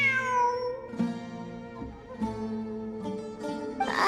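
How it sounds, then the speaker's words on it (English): A cat meows repeatedly in a Genshin Impact cutscene, several drawn-out tonal cries in quick succession, clear and up front with no talking. "It really is a cat."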